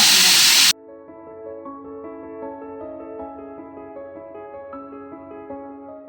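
An automatic soda machine fills a 200 ml bottle with carbonated soda, opening with a brief loud hiss of gas that cuts off sharply, followed by a steady, quieter mechanical hum that carries on to the end.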